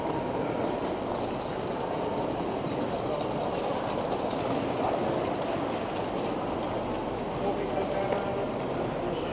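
Steady, loud rumble of a train arriving at Toronto's Union Station, with continuous mechanical roar and faint rattling, and voices murmuring underneath.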